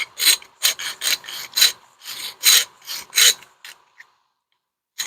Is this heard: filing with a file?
yes